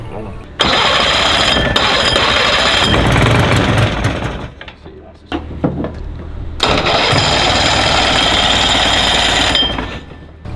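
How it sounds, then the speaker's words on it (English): A hovercraft engine cranks and catches, roaring loudly for several seconds, cutting out briefly, then restarting and running steadily again, with voices faintly audible under the noise in a large parking lot. "So we're trying to get it started, and I wanted to test drive it in this giant parking lot out here."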